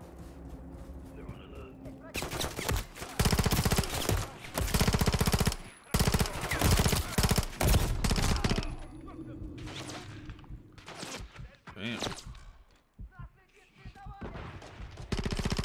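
Call of Duty MW3 campaign gunfire: long, loud bursts of rapid automatic shots with short breaks between them and a few single reports, while a person talks over the shooting.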